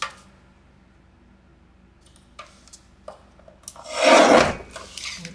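Scissors trim through the folds of a paper napkin for a junk journal page, giving a short, close rasping snip near the end after a few faint paper clicks and rustles.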